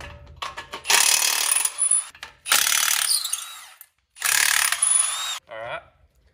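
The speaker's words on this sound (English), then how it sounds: "you can actually get to them with an impact gun" An impact gun takes hub assembly nuts off a Dana 60 front axle on an F250 in loud rattling bursts, several close ratcheting runs separated by short silences, with no talking.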